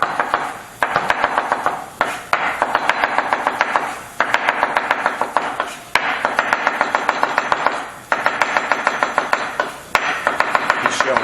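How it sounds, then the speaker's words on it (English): Onions being sliced with a knife on a board, very rapid, steady runs of crisp chops in bursts of roughly two seconds separated by short pauses, loud and close. "We're going to slice up some onions."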